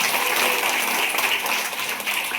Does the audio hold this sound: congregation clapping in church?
yes